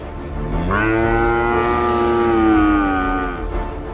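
Cattle in the Sundarbans, one loud, close moo that swells and holds for about three seconds before trailing off.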